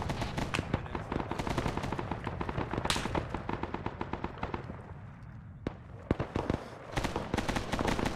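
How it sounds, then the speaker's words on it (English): Gunfire from the Arma 3 video game in a Vietnam setting: dense, loud automatic bursts and rapid shots rattle almost without pause, thin out briefly, then resume in sharp clusters. "Taking fire from behind"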